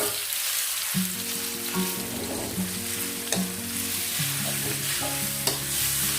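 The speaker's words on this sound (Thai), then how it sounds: "ทีนี้ก็จะเอารากมาคั่วนะคะ" Roots dry-roasted in a pan for northern Thai pork larb, with repeated scraping stirs over a steady sizzle, close and moderately loud.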